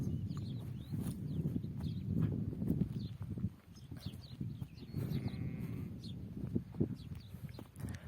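Sheep bleat in a mesh pen on a village farm during lambing season, several calls over a steady background of shuffling livestock and hoof sounds, fairly quiet and unhurried.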